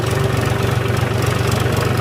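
A tractor engine idles with a steady low rumble and mechanical vibration, continuous and close, with no voices.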